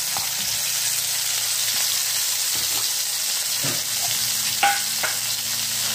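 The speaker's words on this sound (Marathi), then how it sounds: "हा मसाला त्यामध्ये टाकायचा आहे गरम झाल्यावर" Vegetables and masala sizzle and fry in hot oil in a pan, a steady close hiss with occasional stirring clinks and scrapes, nearly alone.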